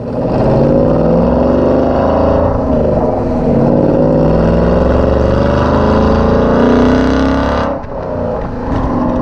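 A loud, deep 2018-2019 Ford Mustang GT V8 with a Borla Extreme catback exhaust drones and revs steadily for several seconds, rumbling low with rising and falling pitch before easing off near the end.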